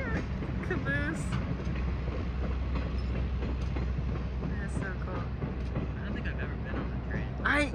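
A tourist train with a caboose rolls past near a mill and mountains, a steady rumbling clatter of rail cars running throughout, with people's voices faintly mixed in.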